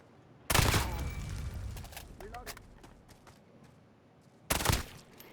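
Two loud, close bursts of automatic FR 5.56 rifle fire in Call of Duty Modern Warfare, one long and one short, separated by quieter game noise and a voice talking.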